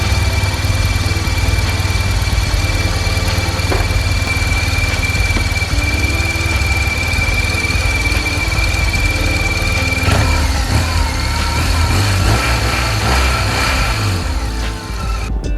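A BMW R1200GS motorcycle engine idles close by with a steady, loud, even rumble that shifts slightly partway through, running alone without talk.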